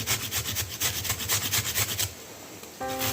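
Carrots are grated by hand in a kitchen, a close, rhythmic rasping scrape repeated in quick even strokes for about two seconds before stopping, followed by a brief faint tone.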